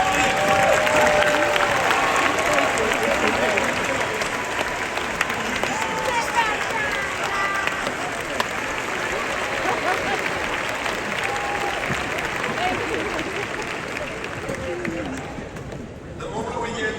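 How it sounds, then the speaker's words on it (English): Graduates at a UMBC commencement applaud their families: loud, dense, sustained clapping from a large crowd with scattered cheers and background chatter, thinning slightly toward the end. "let your graduates applaud you"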